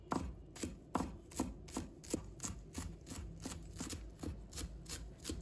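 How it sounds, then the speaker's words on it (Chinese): A knife chops a bunch of cilantro into short pieces on a cutting board, sharp steady strokes repeating about twice a second, close and fairly quiet, with no voices over it. "接着我们再准备一把香菜，我们把香菜切成小段"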